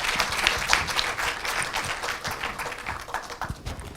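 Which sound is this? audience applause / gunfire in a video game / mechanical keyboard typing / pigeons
audience applause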